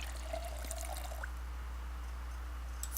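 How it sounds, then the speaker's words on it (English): A water bottle being filled in the game Project Zomboid makes a soft, steady pouring trickle, faint and continuous against a low background hum. "Fill water bottle."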